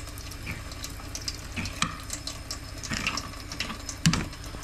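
Tap water runs over a stocked rainbow trout fillet being rinsed in a sink, a steady close splashing hiss with a few sharper clinks and knocks near the end.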